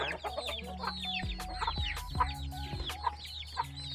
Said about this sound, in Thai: อันนี้ก็ ลูกไก่ไข่นะครับ ซื้อมาห้าตัวรอดตัวเดียว